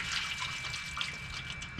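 Water trickles into the drip pan beneath a brisket in a Big Green Egg smoker, a soft, continuous splashing and dribbling heard up close at low volume.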